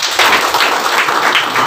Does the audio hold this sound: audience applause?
yes